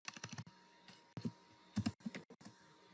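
Code is being typed on a computer keyboard in quick, irregular bursts of close, crisp key clicks with short pauses, fairly quiet and with no voice.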